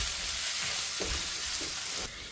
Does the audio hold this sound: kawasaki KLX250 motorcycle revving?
no